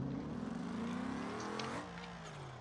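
Car engine in BeamNG.drive building speed, a steady droning tone climbing in pitch for about two seconds, then dropping off as the throttle eases, loud and close with no talk.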